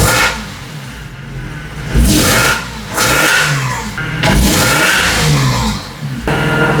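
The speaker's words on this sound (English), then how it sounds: "So I turned on the car" A Porsche with a suspected oil leak, engine started and running nearby, with repeated swelling revs and whooshing surges rising and falling every second or so, loud and unaccompanied by talk.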